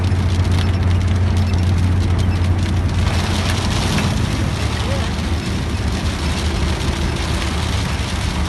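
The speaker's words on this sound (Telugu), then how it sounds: "ఇంకా ఫుల్ వర్షం పడుతుంది." Heavy rain drums steadily on a car during a drive, a dense continuous wash with a low engine hum beneath it throughout.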